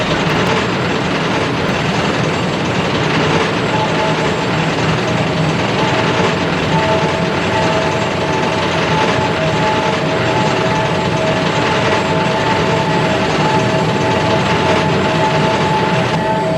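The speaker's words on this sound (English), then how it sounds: "Oh look, there's another engine coming." Approaching train engine from Thomas and Friends, a loud continuous rumble with a steady rolling rail sound and faint sustained tonal hum throughout.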